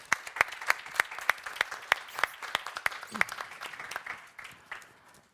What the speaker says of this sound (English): deserve an applause